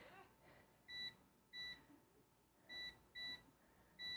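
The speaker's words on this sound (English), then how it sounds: "here's where I set my timer for" A kitchen timer is set for baking bread and gives five short, bright two-tone beeps at uneven intervals. The beeps are clear against a faint, quiet room background.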